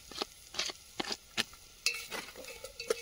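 Onions being stirred in a pan over a medium flame on a village stove, with a spoon scraping and clinking against the metal in short irregular bursts as the onions soften and lightly sizzle.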